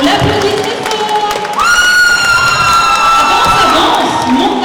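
An audience at a manga festival contest cheers and whoops loudly and steadily, a dense crowd roar with high shouts rising partway through.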